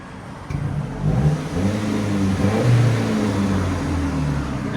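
2004 Nissan Frontier 2.4L four-cylinder with a manual gearbox and Flowmaster Delta 40 exhaust, revving in a few close rising and falling pulls with a clean, steady exhaust tone and no voices.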